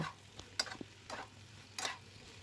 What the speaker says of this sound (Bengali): মিডিয়াম টু হাই ফ্লেমে প্রায় 2-3 মিনিট আমি সবজিগুলো এখন ভেজে নেব।